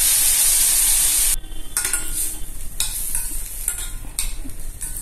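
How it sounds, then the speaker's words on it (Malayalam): Cut carrot sautéing in hot oil with mustard seeds and asafoetida for an instant pickle: a loud, bright sizzle drops as the carrot goes in, followed by steady frying under repeated spoon scrapes and stirs. "കടുക് അതിലേക്ക് മുറിച്ച് വെച്ച് ക്യാരറ്റ് ഇട്ട് ഒന്ന് നന്നായി വഴറ്റുക"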